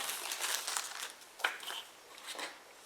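Cardboard box and plastic foil wrapping from a Kindle Paperwhite 3rd generation e-reader being handled, giving a run of soft close crinkles and rustles with one sharper crackle partway through, no talking.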